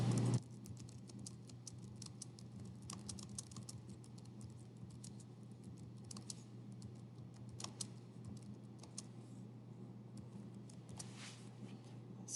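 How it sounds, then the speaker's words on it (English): Quiet computer keyboard typing during an algebra lesson on evaluating functions, scattered soft key clicks over a steady low hum, no talking. "So I'm going to just type that in."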